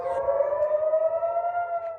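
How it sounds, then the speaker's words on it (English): A wailing air raid siren in Israel holds a steady rising tone, loud and continuous, with no voices present. "Sirens sounded immediately in Israel."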